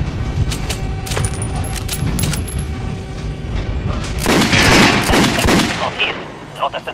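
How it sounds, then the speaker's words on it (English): Gunfire at armored dummies on a shooting range in the video game Metro Last Light, rapid bursts of loud shots with metallic impacts, heaviest in a dense volley toward the end, without talk. "Now shoot the armored dummy. Notice the difference? It's going to take more bullets to penetrate the armor."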